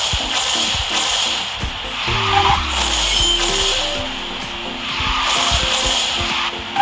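Racing car boosting in the QQ Speed Mobile game, apparently the Ling Tian model, with a steady loud engine roar, rising tonal whines and skidding tire squeal running continuously throughout.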